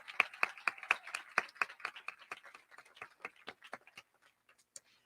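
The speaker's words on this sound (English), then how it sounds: "let's give our board of directors a huge round of applause" A small group at an awards gala claps, the individual hand claps distinct and uneven, quick at first then thinning out and fading to a few scattered claps.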